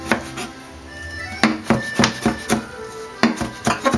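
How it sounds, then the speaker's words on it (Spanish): A knife chopping tomatoes into cubes on a cutting board, a series of sharp close knocks in quick uneven bursts. "Los tomates los parto en cubos."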